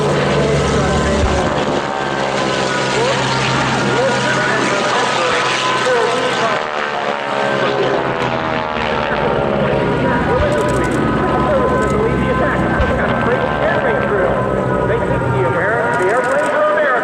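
A propeller airplane flies over during a Pearl Harbor attack reenactment, its engine droning loudly and shifting in pitch as it passes, while an announcer talks over it.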